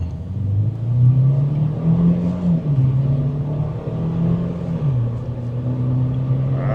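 Chevy Equinox Activ SUV accelerating from 0 to 60 in normal mode, its turbocharged engine droning loud and near with a rising tone that dips briefly at the shifts, heard from inside the cabin.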